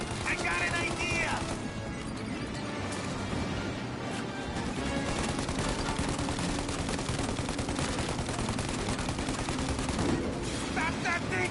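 Dense, continuous gunfire and crashing from a Mafia: Definitive Edition shootout, loud and close throughout with bursts of rapid fire, while voices shout over the battle.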